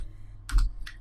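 A few crisp keystrokes tap on a computer keyboard as a command is typed: a quick pair of clicks, then one more after a short pause. The sound is close and quiet over a faint low hum.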